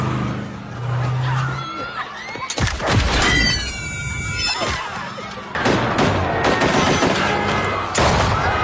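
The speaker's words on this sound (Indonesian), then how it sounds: "Dan Jen segera menembak" Gunfire in an action film scene, with bursts of shots and impacts mixed with music and effects, loud and dense throughout.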